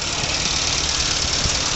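A 1980 Mini 1000 Auto engine runs steadily, a loud, continuous mechanical drone with an even rumble and no pauses.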